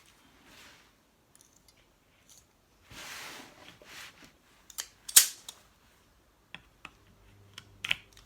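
A Rubi tile leveling clip is slid down and ratcheted tight against tile, giving faint scattered plastic clicks and a few sharper snaps, close and quiet.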